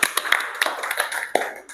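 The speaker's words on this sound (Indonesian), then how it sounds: "tepuk tangan buat Jaskia." A classroom of students in an industrial engineering lesson claps for a classmate, a short scattered burst of hand claps at moderate distance, irregular and thin rather than a full roar.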